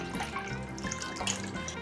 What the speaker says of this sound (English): now I'm going to go ahead and add our beef broth